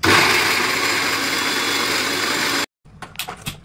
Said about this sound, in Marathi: आता हे मिक्सर मध्ये घालायचे आणि त्यांना बारीक पिळून काढायचं.